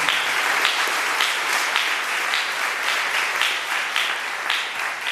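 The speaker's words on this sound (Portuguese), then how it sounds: "Aplaude o Senhor por esse nome." A church congregation applauds in a sustained, dense wash of clapping from many hands, steady and fairly loud throughout, with no clear voices above it.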